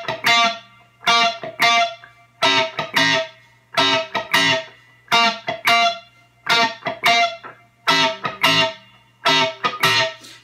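Guitar plays the verse part of a song using two-string shallow seventh-and-third voicings. Short percussive chord stabs repeat in a tight funky rhythm with regular gaps over a low steady hum, and no one speaks.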